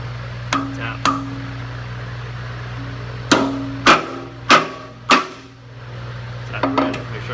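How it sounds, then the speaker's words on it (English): A brand-new hammer taps a bung into a beer firkin, giving several sharp, separate knocks at uneven intervals over a steady low hum, fairly close and clear. "I'm gonna grab my hammer. Nice brand new hammer. And I'm just gonna tap."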